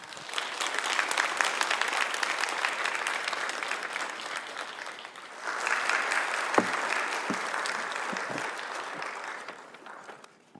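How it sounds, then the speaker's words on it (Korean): Sustained, dense audience applause fills a school centenary symposium hall to welcome a cardinal giving a congratulatory address, holding steady for about ten seconds with a brief surge midway, a few louder individual claps, then fading at the end. "힘찬 박수로 환영해 주시기 바랍니다."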